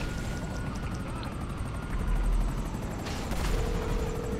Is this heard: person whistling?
no